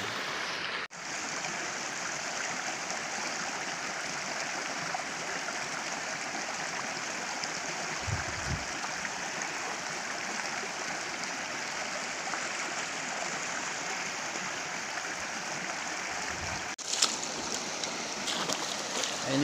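A river in the hills of Antique province rushes steadily, a loud, unbroken wash of flowing water close by for the whole stretch, with a couple of low thumps and no voices.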